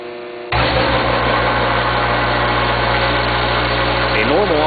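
An FMC Syntron magnetic vibratory feeder, running at full output, gives off a loud, steady electrical hum that starts abruptly and then holds constant with no variation.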